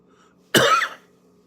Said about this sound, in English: a little bit of a cough